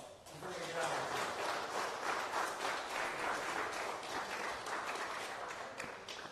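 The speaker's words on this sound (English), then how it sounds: "I'd love for you guys to give yourselves a round of applause" A crowd at a high school fantasy draft event applauds steadily throughout, with dense, sustained clapping at moderate volume and some voices mixed in beneath it.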